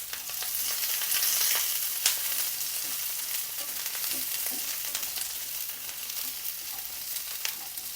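Eight to ten small garlic cloves fry in a pan for a fish curry, making a steady, fairly quiet sizzle with occasional sharper pops and crackles throughout, with no voices.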